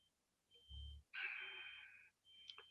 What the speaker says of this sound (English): Apologies if you can hear beeping, there's workmen outside my house.